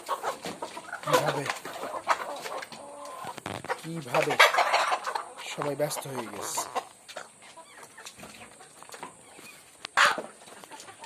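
Native deshi chickens kept in fully enclosed cages cluck and squawk in bursts at close range, with someone talking over and between the calls.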